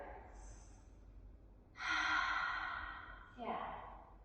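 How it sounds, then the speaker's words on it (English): Slow, audible breathing during an energy medicine practice, a soft inhale through the nose followed by a long, breathy exhale through the mouth and a second shorter exhale, close and quiet with no talking. "inhale through the nose and exhale through the mouth the entire time during this breathing"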